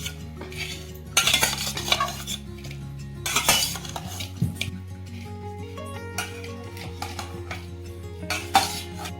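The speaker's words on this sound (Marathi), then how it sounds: "आता छानपैकी याला चांगल्या प्रकारे मिक्स करून घेऊ हळद आणि लिंबू" Fish being mixed with turmeric and lemon juice for a village-style fish curry, with a spoon clinking and scraping against a metal vessel in close, irregular bursts and quieter stirring in between.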